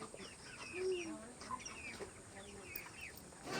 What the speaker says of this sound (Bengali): এগুলো সব সুস্থ মুরগি আছে